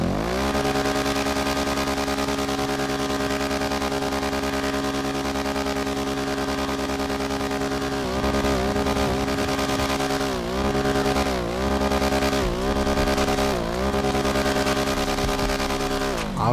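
A modified 1999 Honda CG motorcycle on a street during food deliveries, its engine humming steadily up close, then revving and dropping repeatedly through gear changes in the second half, with no talking.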